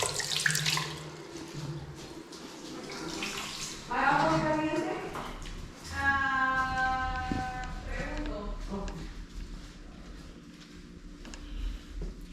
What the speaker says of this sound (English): See if we have hot water in here.